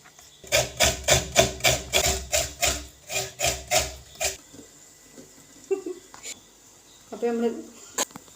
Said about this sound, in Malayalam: അപ്പോൾ ഇത് ഞാൻ കുറച്ച് തേങ്ങ അരക്കട്ടെ കേട്ടോ